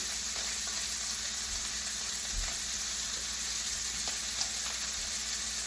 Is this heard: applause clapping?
no